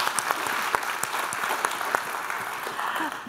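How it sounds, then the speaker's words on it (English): Audience applause at an academic symposium, a steady wash of many hands clapping at moderate volume, continuing evenly throughout with no talk over it. "Round of applause."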